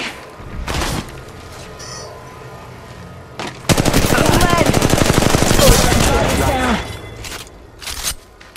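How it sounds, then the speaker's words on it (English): Rapid automatic gunfire in Apex Legends Mobile, a dense loud burst of shots lasting several seconds after a few isolated reports, with a voice speaking over the action. "Shot fired at me."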